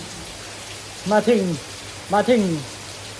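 Rain falls at a forest temple in Luang Prabang, Laos, a steady even hiss throughout as someone speaks two short phrases over it.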